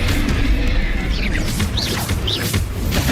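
Confringo, an explosive spell in Hogwarts Legacy, goes off in a loud, dense burst of crashing, booming blast noise with whooshing magical streaks through the middle.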